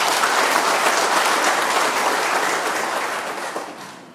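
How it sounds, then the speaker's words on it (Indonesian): An audience at a swearing-in ceremony for a regency head breaks into steady applause, a dense wash of clapping that holds evenly before gradually fading out. "Mari kita beri tepuk tangan."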